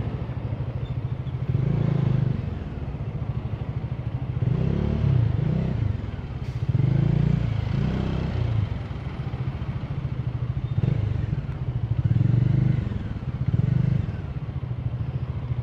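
A Bajaj Dominar 400 motorcycle riding through traffic, its engine thrumming steadily up close and swelling in repeated throttle surges, with some rattling in the background.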